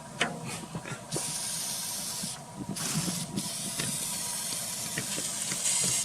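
Oven cleaner sprayed from an aerosol can onto an engine as a degreaser, a steady close hiss running in long continuous bursts with brief pauses between them.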